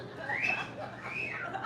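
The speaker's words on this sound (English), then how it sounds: "I think somebody's whistling at me." A person in the audience at a live political talk event lets out a short rising-and-falling whistle, brief and fairly faint, heard from across the room.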